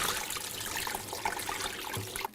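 Green laver seaweed (parae) gently swished and rinsed in a basin of water, giving a faint, soft sloshing and trickling close by, with no talking.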